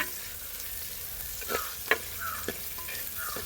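Sambar shallots frying in coconut oil until reddish, a soft continuous sizzle broken by a few stirring scrapes and a sharp utensil tap, heard close and alone.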